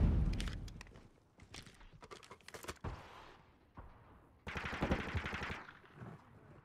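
.50 cal gunfire in Modern Warfare, rapid loud shots in several bursts with short pauses between them, the final volley especially dense and close.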